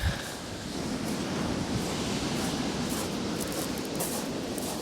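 Sea waves on the shingle of Chesil Beach in Dorset in daylight with a 2-metre swell, heard as a steady broadband roar of surf at fairly even loudness, with a little wind noise and no talk.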